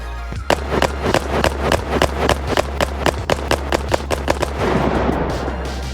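Rapid full-auto fire from a G18 pistol in a video game, a fast steady string of about twenty sharp loud shots over a low constant hum, trailing into a noisy burst at the end.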